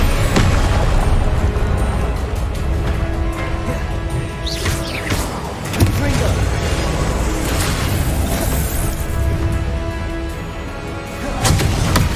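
Confringo fire spells explode in the video game Hogwarts Legacy, heavy booming blasts over a constant roar of game combat effects and music, with a few sharper bursts and no clear talk.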